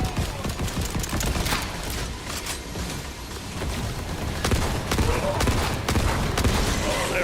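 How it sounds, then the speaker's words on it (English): Heavy shotgun blasts in the video game Borderlands 4 boom repeatedly through a loud, dense combat mix of explosions and gunfire, with players talking throughout. "That hot shotgun hits nice and hard."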